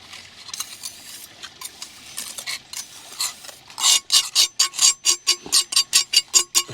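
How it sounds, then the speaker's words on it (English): Dry mortar is brushed and trowelled into the joints of paving slabs at an outdoor pond restoration. The sound is close, gritty scraping that becomes a fast, regular run of rasping strokes, with no talk. "we can almost sort of brush it into the joints, compact it down, and then we can trowel over it and finish it off."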